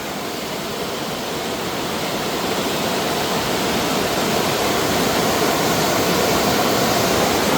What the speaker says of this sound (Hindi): ये देखो क्या प्यारी नदी बह रही है भाई